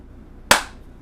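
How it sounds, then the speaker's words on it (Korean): A single sharp hand clap rings out close and loud in a quiet room during a Won Buddhist dharma lecture, with a brief decaying tail and nothing else around it. "이게 박수 소리야."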